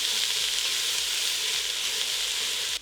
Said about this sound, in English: we're going to saute that for about 3 to 5 minutes until it is softened